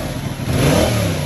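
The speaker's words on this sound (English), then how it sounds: "Give it a little rev." A 2022 Yamaha R7 motorcycle on its stock exhaust is revved once up close, a loud, brief rise in engine pitch that swells and holds for about a second.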